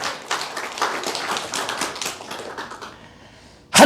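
A church congregation claps during a sermon, producing a ragged run of sharp, uneven claps that thins out and fades before a sudden loud burst at the very end.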